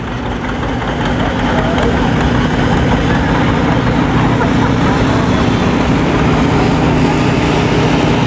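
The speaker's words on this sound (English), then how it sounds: "Here's a unique John Deere unit. LA, good cultivating tractor, still a 2-cylinder" A John Deere LA two-cylinder cultivating tractor of about 10 or 12 horsepower runs steadily outdoors at a cotton gin festival, with a continuous loud, low, rumbling engine drone and some wind buffeting the microphone.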